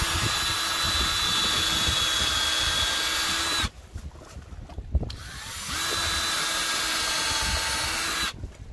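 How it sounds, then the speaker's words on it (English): A power drill bores pilot holes in solar dock lights, its loud high whine running steadily, cutting out abruptly, then returning in a second long burst after a short pause. "So I'm going to drill a few pilot holes."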